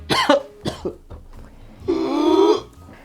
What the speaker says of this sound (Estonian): Köhi.